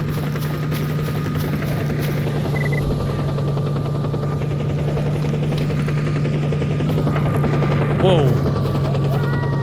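Helicopters flying in the video game Stalker Anthology, a loud continuous rotor drone with a steady low hum and faint distant gunfire, while a man exclaims briefly.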